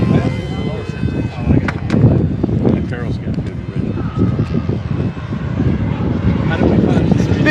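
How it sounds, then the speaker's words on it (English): An RC model airplane engine drones steadily in flight at a large outdoor RC event on a breezy day, a continuous buzzing hum mixed with wind noise, with people talking over it. "Now this is where Jason's gonna try to make me look like I don't know how to fly planes"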